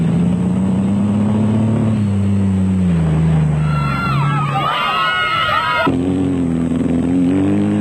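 A GBS Racing Nissan off-road production race vehicle at the Toyota 1000 Desert Race revs loudly close by, its engine note climbing and falling over crowd noise and cheering, with a burst of sharper whining sound in the middle.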